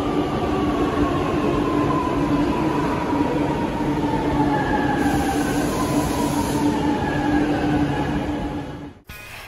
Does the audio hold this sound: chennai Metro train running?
yes